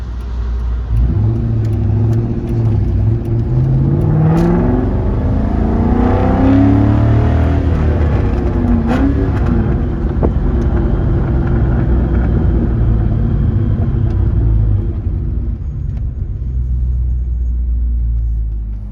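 A Ford Mustang GT drives off, its engine a steady close rumble that swells briefly as it accelerates, then settles into a continuous low drone throughout.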